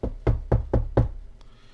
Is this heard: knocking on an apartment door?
yes